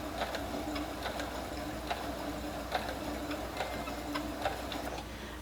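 A sewing machine runs steadily while stitching backward along a quilt border, its needle giving an even, close ticking rhythm of light clicks over a low motor hum, with no talking.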